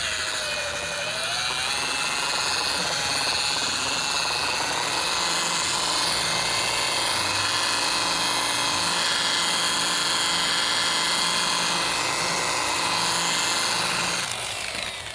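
An electric car polisher whines at a steady, high, continuous pitch while buffing clear coat with rubbing compound, a close, unbroken drone lasting the whole stretch with no talking.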